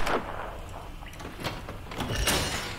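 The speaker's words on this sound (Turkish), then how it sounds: "Oha, kapı elimde kaldı kolum." A door is torn off in the video game Crysis 2, heard as a scraping, rattling metal clatter with a couple of sharp knocks over steady game ambience, with no talk.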